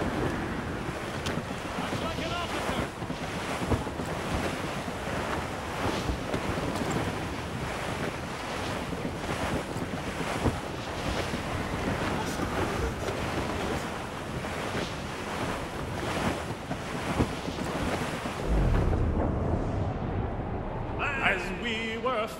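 Gale-force wind and heavy ocean waves at sea in Assassin's Creed Rogue roar loud and steady with broad surf and buffeting gusts, easing near the end into a low rumble.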